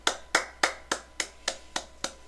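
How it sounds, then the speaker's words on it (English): Eight sharp hand claps in an even, slightly quickening rhythm, close and distinct with no other sound between them. "I'm gonna give you a hand clap for that, bro"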